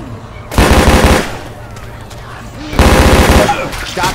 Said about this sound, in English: Stop shooting each other.